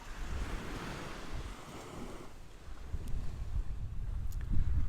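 Gusty wind on the Holderness coast near Withernsea, a broad rushing roar buffeting the microphone with surf washing beneath, building louder toward the end, with no voices.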